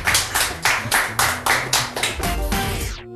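Audience clapping on a Tatar cooking show, about ten crisp, evenly spaced claps in a steady rhythm, close and fairly loud with no voices, ending abruptly.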